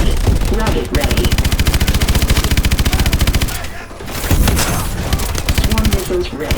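Rapid machine-gun fire in Call of Duty: Advanced Warfare, loud and close, with evenly spaced shots in long sustained bursts that pause briefly near the middle before the firing resumes.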